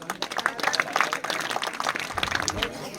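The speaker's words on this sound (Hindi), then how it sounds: "जमाने को क्या जोरदार तालियां बच्चों के लिए।" Applause rises for schoolchildren at a school function, a busy patter of many hands clapping close by while a voice talks over it.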